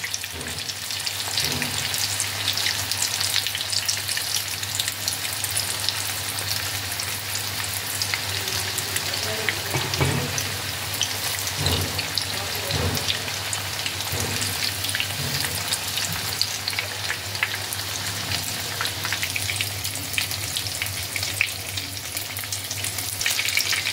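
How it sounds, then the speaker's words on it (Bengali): Chicken chapli kebabs fry in hot oil with steady sizzling through the whole stretch, with occasional soft clicks and scrapes of turning pieces. "এইভাবে উল্টে পাল্টে ভালোভাবে ভেজে নিতে হবে।"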